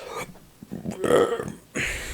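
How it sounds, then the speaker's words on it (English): A single loud burp bursts out mid-clip, preceded by faint mouth noises and followed by a short noisy swell near the end. "burp."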